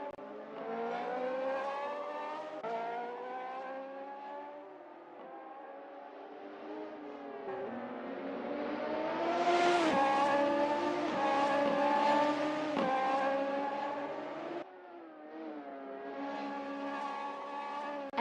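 A Radical race car in a simulated Melbourne qualifying session brakes and downshifts into the hairpin, then its engine climbs hard through the gears on exit and roars close and loud without any talk.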